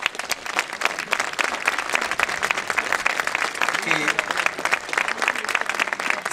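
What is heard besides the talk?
applause for the late Angelo Polito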